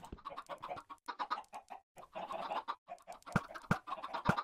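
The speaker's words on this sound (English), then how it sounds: "Ooh, we got an adult chicken already." Chickens in the Minecraft video game cluck in quick repeated bursts, several birds overlapping, fairly quiet and near, with sharp clicks scattered among them and no talking.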